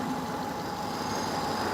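The 2.5-liter engine of a 2007 Subaru Outback 2.5i idles on a cold start, a steady, fairly faint hum with a constant tone and no other sounds.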